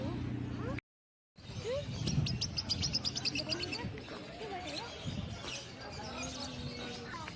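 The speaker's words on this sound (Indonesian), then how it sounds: "Baik suara burung." Birds chirp and call in a busy chorus at a livestock expo contest in Sulawesi, with rapid repeated tweets and higher trills, while people talk nearby and a brief silent gap interrupts.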